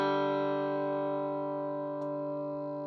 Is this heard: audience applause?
no